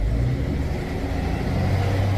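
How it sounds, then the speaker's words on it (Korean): A Scania 500 hp truck engine revs under acceleration after an aftermarket performance upgrade, a steady, loud low rumble that holds throughout with no talk over it. "소리도 더 조용해졌을 거예요. 엔진 소리도."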